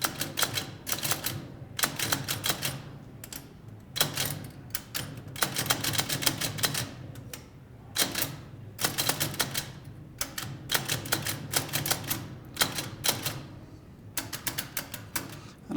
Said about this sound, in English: This is what the typewriter looks like being operated.